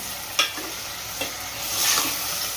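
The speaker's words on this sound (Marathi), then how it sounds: "मटण टाकून घेऊया हे पण छान ह्याच्यात या तेलामध्ये" Village-style goat mutton frying in hot, fatty oil gives a loud, constant sizzle, broken by a few sharp scrapes and clanks of stirring, with the hiss swelling toward the end.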